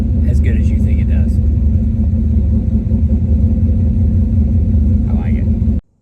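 A Ford Mustang V8 with a Borla or Flowmaster exhaust rumbles loudly and steadily, with brief faint voices heard over it, before the sound stops sharply.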